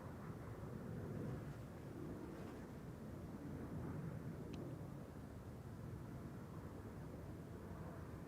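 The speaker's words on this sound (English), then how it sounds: "that's the airplane arriving from Guayaquil" A KLM airliner arriving at Schiphol Airport on the Polderbaan runway gives a steady, distant broadband roar that holds at an even level throughout, with no talk.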